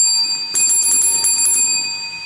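A bright notification bell sound effect, a rapid cluster of high metallic dings ringing over a sustained tonal chime, loud and close with no talking.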